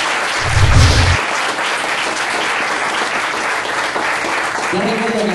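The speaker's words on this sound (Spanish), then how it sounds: "Dale un aplauso a Cristo en esta." Church congregation applauds loudly and continuously, a dense wash of clapping with a brief low voice near the start and another at the end.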